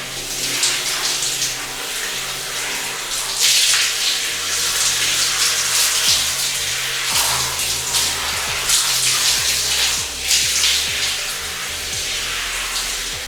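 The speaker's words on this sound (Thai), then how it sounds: "เราจะใช้เลนฝักบัวแบบนี้รู้สึกว่ามันล้างสะอาดกว่า" A handheld shower head rinses long hair in a bathroom, a steady close rush of running water that swells and dips as the spray moves, with splashing running the whole way and no talk.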